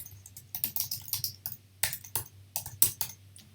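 Typing on a computer keyboard while writing code, a run of crisp, close key clicks in uneven bursts and pauses, heard alone without talk.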